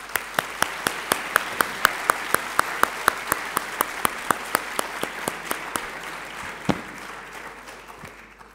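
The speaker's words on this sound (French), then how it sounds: "On peut applaudir le doyen, bien sûr." Audience applause for a dean at a graduation ceremony for architecture graduates, a steady wash of clapping with loud, regular claps standing out near the microphone, fading slightly toward the end.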